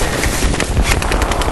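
Airsoft guns fire in a rapid, continuous burst during an outdoor airsoft battle, loud and close for about a second and a half.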